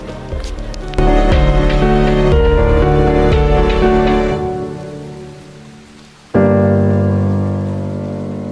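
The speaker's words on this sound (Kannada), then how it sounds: "ಮಳೆ ಬಂತು ಮಳೆ ಬಂತು ಮಳೆ ಬಂತು." Rain falls at a forest viewpoint in Valparai. It makes a broad, steady wash that rises, fades and then returns strongly.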